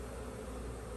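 Agitated honey bees buzzing around an open hive during a late-summer inspection, just after some were brushed off a brood frame; a steady, close, low droning hum runs throughout without a break.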